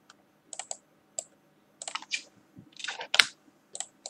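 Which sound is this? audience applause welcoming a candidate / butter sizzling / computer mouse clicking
computer mouse clicking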